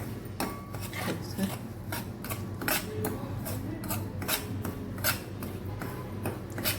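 Semolina (rava) dry-roasting in a pan for rava besan barfi, stirred with a spoon in a steady series of soft scraping strokes and light clicks against the metal, close and fairly quiet.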